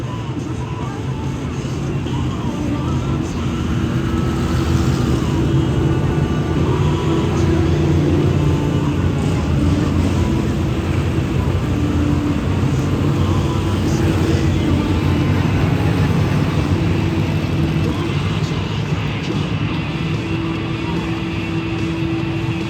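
A field of hobby stock race cars rolls around Adams County Speedway on a parade lap, their engines making a continuous loud droning roar with steady idling tones, while a faint announcer voice carries over the track.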